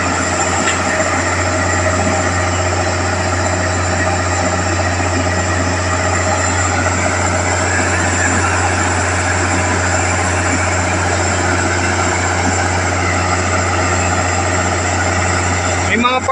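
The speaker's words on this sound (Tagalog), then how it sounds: "Maandar pa nga yung motor, yung makina niya eh." A Philippine National Railways train engine runs at the Alabang end station in Muntinlupa, a steady loud low diesel drone with constant mechanical rumble throughout, with faint voices now and then.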